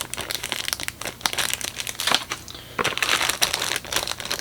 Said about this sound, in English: I'm going to take this out of the plastic here in a second.